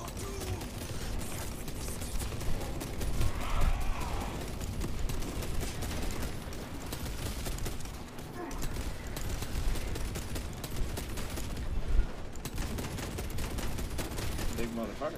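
Gunfire from Space Marine 2 rattles in dense, rapid bursts throughout, steady automatic fire with occasional sharper cracks and a heavier thump near the end, under talk.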